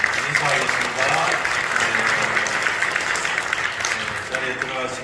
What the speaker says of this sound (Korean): 인사할 때 큰 박수로 환영해 주시면 감사하겠습니다.